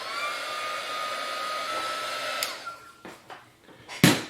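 A hair dryer blows steadily to quick-dry a glossy coat on a ceramic tile, a loud continuous whine that cuts off partway, followed by a few soft knocks and a brief rustle.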